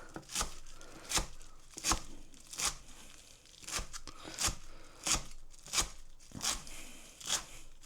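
A knife slices kale into strips on a board, about a dozen crisp crunching cuts in an uneven rhythm, close and clear with no talk.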